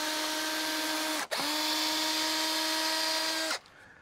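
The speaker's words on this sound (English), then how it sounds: "Just drill a couple holes," A power drill bores holes in wood for a sawhorse, whining steadily at high speed, briefly dipping in pitch mid-run as it bites, then cutting off near the end.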